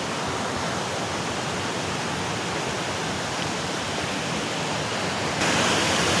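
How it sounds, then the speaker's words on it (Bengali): Steady, loud broadband rush of water at Durga Falls in the Ayodhya hills, a waterfall heard up close, continuous and unbroken with no voices. "এখান থেকে ঝর্ণার জলের শব্দটা শোনা যাচ্ছে।"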